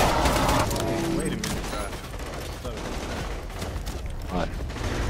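Bursts of automatic gunfire from the video game Borderlands 2 rattle up close in dense volleys, with mechanical clatter, and voices talk over the shooting.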